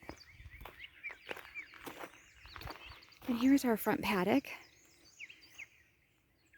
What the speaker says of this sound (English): You can hear the birds. They're very happy today.